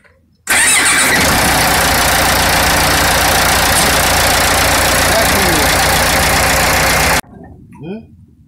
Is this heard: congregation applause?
no